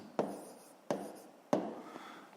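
Pen on paper writing out a grade 5 math solution by hand: three distinct scratchy strokes spaced about a second apart, close and fairly quiet, with no voices.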